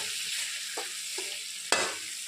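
Mixed vegetables and paneer stirred in a pan under a steady sizzle, with a few soft utensil scrapes and one sharper clack near the end; no one speaks.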